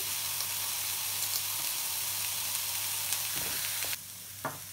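Garlic sizzling and frying in hot oil in a pan while bharta is being prepared, a steady broadband sizzle throughout with a few small pops and spatters, close and fairly loud, no talking.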